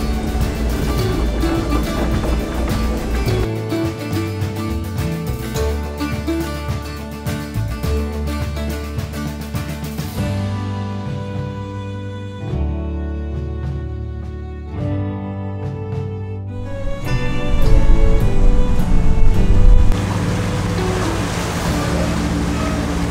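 Sailboat motoring through the San Juan Islands against current and wind, a steady engine drone mixed with rushing water and wind, loud and continuous throughout, with no talking.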